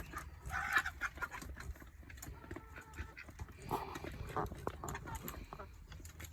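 Soft clucking from chickens in a farmyard, intermittent and somewhat distant, amid low background noise and other animal sounds.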